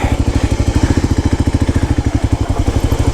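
A motorcycle engine chugs loudly and rhythmically up close as the bike rides along a road in Lombok, the fast regular pulses holding steady throughout.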